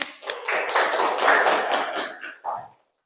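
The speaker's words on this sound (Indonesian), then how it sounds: "Oke, mana tepuk tangannya?" Students applauding in a classroom, a moderately loud ragged patter of several hands clapping for a couple of seconds before tapering off to silence.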